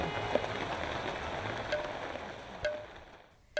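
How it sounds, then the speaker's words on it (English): Heavy monsoon rain pours steadily over a city, a dense continuous hiss with scattered drips and taps, fairly loud and close, with no voices. "the rains leave every nook and corner flooded and waterlogged"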